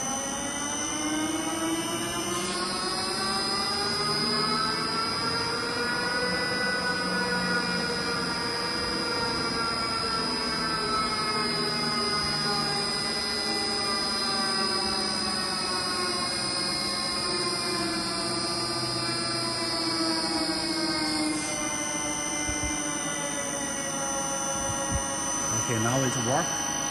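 A 2000L ribbon blender for sugar and soybean meal runs in a factory test with a loud steady mechanical drone and rising whine as its speed changes, with a high tone that cuts in and out and brief speech near the end.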